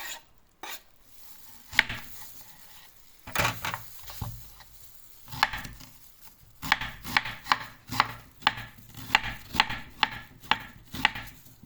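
Onions finely chopped with a knife on a board for a cabbage salad, starting with scattered cuts, then settling into a steady, close, rhythmic run of sharp chops.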